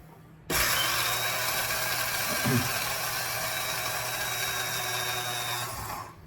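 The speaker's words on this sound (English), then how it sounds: "whatever you've got to grind stuff with, use it. And I make oat flour this way." An electric grinder running steadily for about six seconds as it grinds oats into oat flour, a loud continuous whirring drone that starts abruptly and winds down at the end.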